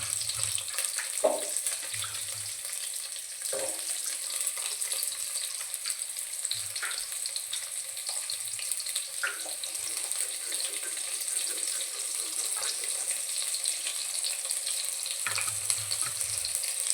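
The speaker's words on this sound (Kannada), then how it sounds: "ಇದನ್ನು ಸ್ವಲ್ಪ ಎಲ್ಲ ಚೆನ್ನಾಗಿ ಒಂದು 2 ಮಿನಿಟ್ಸ್ ಅದನ್ನು ಫ್ರೈ ಮಾಡ್ಕೋಬೇಕು" Horse gram masala ingredients frying in hot oil in a pan for sambar, giving a steady close sizzle with a few soft knocks and stirring bumps, no voices.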